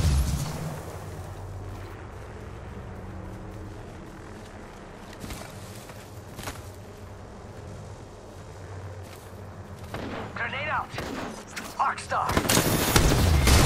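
Gunfire erupts in an Apex Legends match, sporadic sharp shots early on building to dense, loud bursts of rapid fire toward the end, with voices calling out over the action.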